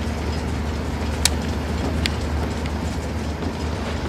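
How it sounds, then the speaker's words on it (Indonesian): A train's engine in Uncharted: The Lost Legacy rumbles steadily and loudly, with a low mechanical drone and a couple of sharp metallic clicks, and no one speaking. "Kita hentikan kereta ini."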